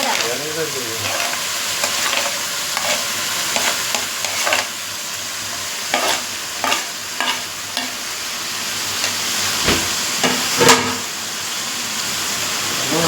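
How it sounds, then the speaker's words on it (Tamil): A steady sizzle of tomatoes sautéing in a pan for tomato thokku, with occasional stirring scrapes and clatters over a constant hiss, close and moderately loud. "நல்லா வதக்கணும் தக்காளியை நல்லா வதக்கணும்"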